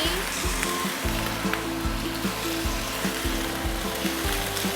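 Spring onion frying in a pan, a steady close sizzle with crackling bursts and a low rhythmic knocking underneath, no voices.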